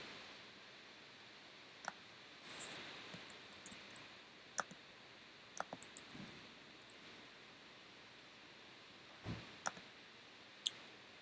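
Sparse, crisp computer mouse clicks sound in a quiet room, single and double taps spread irregularly over about ten seconds, faint and close, with no talking.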